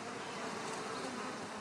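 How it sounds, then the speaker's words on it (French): Thousands of bees hum steadily around a linden tree in full bloom, a dense, continuous buzzing with no pauses and no voices. "Ventilé par des milliers d'abeilles, le tilleul en pleine floraison embaume."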